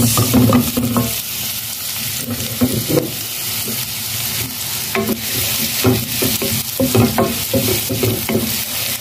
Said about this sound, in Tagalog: nilagay ko na yung bawang at saka yung sibuyas